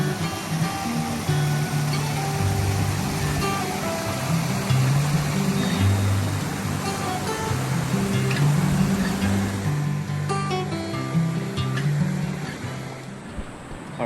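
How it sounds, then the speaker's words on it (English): A waterfall and rocky stream at Seven Falls in Sabino Canyon produce a loud, continuous rushing wash of water close by, steady throughout with churning low rumble. "I'm closer to the waterfall."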